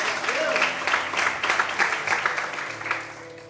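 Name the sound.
congregation applauding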